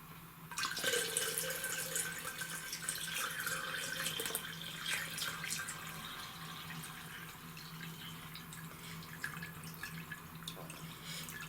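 Water trickles and drips as it is poured into a pot to water a Vanda orchid, a faint, close splashing run that settles into softer dribbling, with no voices.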